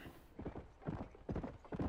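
Horse hooves clip-clop in a steady walking rhythm in Red Dead Redemption, several soft, close thuds in groups, fairly quiet with no talk over them.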